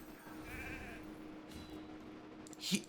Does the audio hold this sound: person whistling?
no